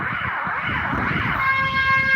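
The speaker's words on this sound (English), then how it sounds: "there's an ambulance" A loud ambulance siren wails nearby on a Helsinki street, its pitch sweeping up and down, joined by steadier tones toward the end.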